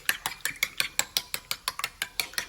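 Three eggs whisked for fried rice make a fast, even run of crisp clicking strokes, about six per second, close and alone.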